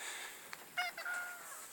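A cat lets out a short, fairly quiet meow while being petted indoors, a brief tonal cry in the middle of otherwise low, still room sound.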